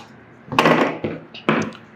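Tailoring shears cutting through frock fabric, heard as three crisp, close broadband snips about half a second apart, with no talking.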